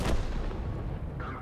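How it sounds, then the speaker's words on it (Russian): Artillery fire in World of Tanks, a single heavy boom at the start that rolls off into a low rumbling tail, fairly loud and close. "Ой, долбанная артиллерия."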